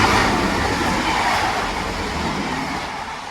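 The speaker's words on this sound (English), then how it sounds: "The train now arriving into platform 1 is the 13:39" A train passes through Shotton station, a loud, steady rumbling roar of wheels and carriages on the rails, close by and continuous for several seconds with no talk.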